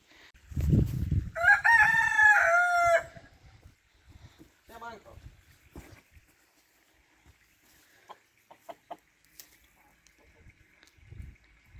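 A rooster crows loudly once near the start, followed by scattered soft clucks and small rustling sounds in a quiet setting.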